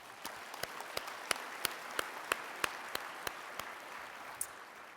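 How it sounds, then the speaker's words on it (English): Scattered audience clapping at a Holocaust-education gala honoring Ken Burns: a dozen or so distinct, fairly evenly spaced claps over a soft broadband wash, sparse rather than a full ovation. "Let's clap for that."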